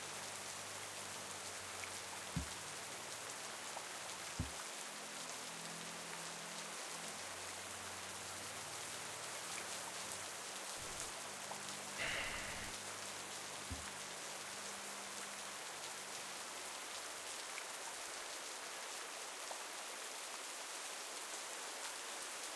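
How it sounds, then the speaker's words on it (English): Steady rain falls throughout, a dense even hiss of drops on surfaces with a few soft thuds, no talking. "Try to stay out of the rain today, okay?"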